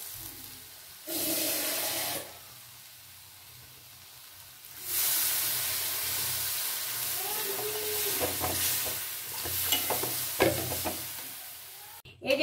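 Water poured into a pan of potato and pointed gourd vegetable curry sets off a bursting sizzle and steady hiss, close and moderately loud, with stirring clinks breaking through.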